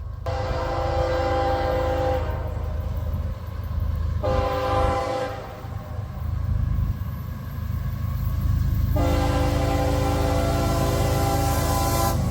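A CSX or Wheeling & Lake Erie freight locomotive passes near Omega Road outside New London, Ohio, its horn sounding in three long loud blasts over a steady rumble of engine and rolling railcars, with no talk.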